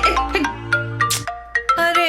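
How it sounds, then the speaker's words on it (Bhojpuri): A mobile phone ringtone in a Bhojpuri film scene: a short electronic melody of bright repeating notes, loud and close, with no talk over it. "हाँ इला प्रेम जीजू के फोन आयल बा"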